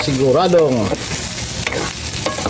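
Pork belly fries in its own rendered fat for adobong liempo, giving a steady, close crackling sizzle with some stirring throughout, and a brief hummed tone near the start.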